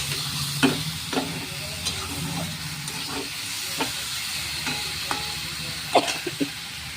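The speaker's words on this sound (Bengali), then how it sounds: "ভালো করে একটু নেড়ে চেড়ে নেব।" A spoon stirs a small-tilapia fish curry in a pan, with scattered scraping strokes over a steady sizzle, close and moderately loud.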